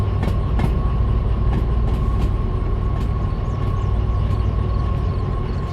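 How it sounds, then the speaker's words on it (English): A freight train rolls past in the DV Sim railway game near a coal power plant, a steady loud rumble with a constant high tone and faint rhythmic clicks of wagons, no talk. "There's the end of the train."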